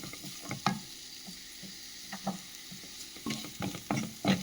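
Sliced large onion sautés in a pan for palak paneer, a quiet sizzle punctuated by irregular spatula scrapes and taps that grow busier toward the end.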